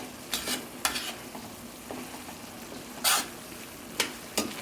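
Chickpea curry ingredients sizzling softly in a pan, a low steady fry broken by several sharp bursts as the mixture is stirred, close and moderately quiet.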